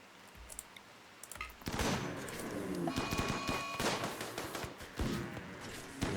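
Colonists open fire together in RimWorld, a dense run of overlapping gunshots and sharp clicks that starts after a quiet second and keeps crackling steadily for several seconds at fairly loud level, no talking.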